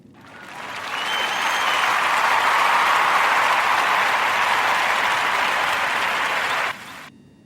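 Sustained applause from an audience greeting Melissa, a Toy of the Year finalist, rising quickly, holding steady and loud for about six seconds, then cutting off.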